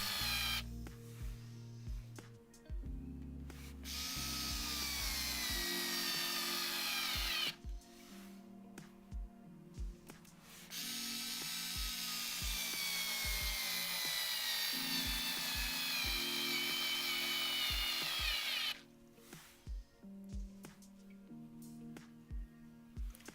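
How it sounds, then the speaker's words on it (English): A Parkside PAS 4 D7 cordless screwdriver drives screws straight into softwood without pilot holes. Its motor whirs loudly in three long bursts separated by short pauses and clicks. "So now I'm going to screw them directly into the softwood without pilot holes."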